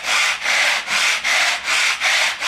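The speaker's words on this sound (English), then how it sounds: "When you're sanding, you wanna have fairly even pressure." Sandpaper rubbed over the wooden corner blocks of a handmade violin, six steady back-and-forth strokes in an even rhythm, close and fairly loud with brief pauses between passes.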